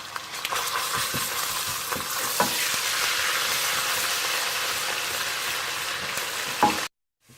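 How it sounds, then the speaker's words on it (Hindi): A steady, loud sizzle of ground garlic, ginger and whole dried red chilies frying in hot oil, with occasional clicks of a utensil stirring, ending abruptly. "पिसा हुआ लहसुन, पिसी हुई अदरक और साबुत सूखी सुर्ख मिर्चें, और इन्हें आप थोड़ा सा भून दें।"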